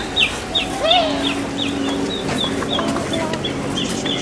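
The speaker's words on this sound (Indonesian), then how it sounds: "Kita ada burung." Birds, apparently chickens or other fowl, call in a nature park with short repeated high chirps and clucks over a steady background hum; no talking.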